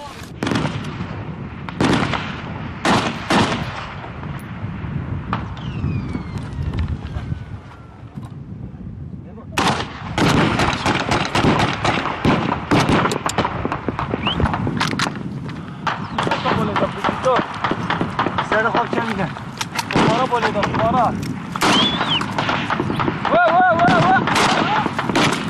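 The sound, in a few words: gunfire and artillery during an attack on ISIS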